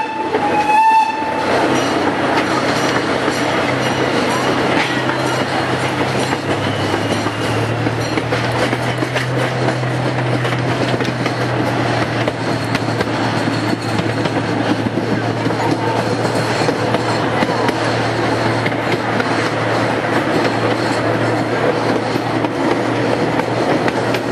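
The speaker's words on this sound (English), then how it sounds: "Riding on board CP Huntington number 79, one of 2 trains that operate on the Lake Winnepesaukah Railroad." CP Huntington number 79 train runs on the Lake Winnepesaukah Railroad at an amusement park. A loud, continuous rumble and clatter of rolling cars is heard on board, with a horn or whistle blast near the start.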